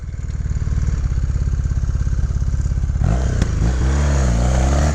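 A 1981 Honda CM400T motorcycle engine runs at a steady loud idle close up, then its pitch and rumble shift as it picks up slightly and keeps running, with a faint mechanical clatter and no voices.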